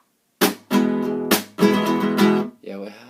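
A guitar plays a huapango rhythm that opens with a sharp percussive golpe, followed by a few bright strummed chords in a short syncopated pattern, close and clear.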